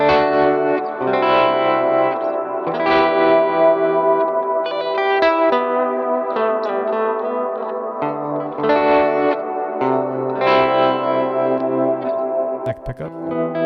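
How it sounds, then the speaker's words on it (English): An electric guitar played through the Neural DSP Archetype plugin with reverb runs through a series of chords and melodic phrases, each note ringing into a lingering wash, close and fairly loud with no talking. "this with a little reverb will sound nice"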